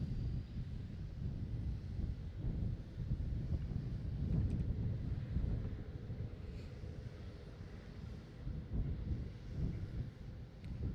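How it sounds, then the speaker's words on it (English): Strong wind at SpaceX Starbase in Texas roars steadily into an outdoor microphone, a low buffeting rumble that swells and eases in gusts throughout. "The wind's getting pretty, you know, it cuts pretty hard out here."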